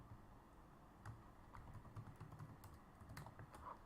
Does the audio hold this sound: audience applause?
no